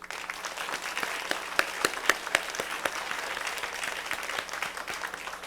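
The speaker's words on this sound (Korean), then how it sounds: "박수로 축복하겠습니다" A church congregation applauds steadily for several seconds to bless a bride and groom during a worship service, a dense wash of clapping hands filling the room with sharper claps standing out.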